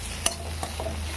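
Taro and tomatoes being stirred and fried in a pan: a couple of sharp utensil scrapes and clinks over a faint, steady sizzle and low background hum.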